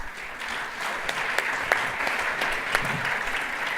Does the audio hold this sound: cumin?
no